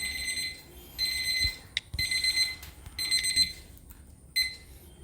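A timer alarm beeping at the end of a trading session, four bursts of rapid high-pitched electronic beeps separated by short pauses, loud and close with no talking.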